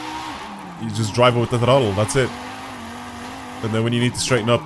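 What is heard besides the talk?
car drifting sideways in video game Forza Horizon 5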